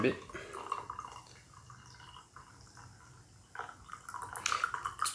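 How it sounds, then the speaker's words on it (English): Gyokuro green tea drips and trickles from a small pot as it is poured, with soft, irregular splashes and a faint liquid patter nearby, while someone talks over it. "Kind of dripping a bit."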